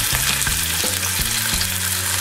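Veal chops fry in olive oil in a very hot pan, a loud steady sizzle broken by several sharp knocks and scrapes as the meat is moved and turned, with no talk.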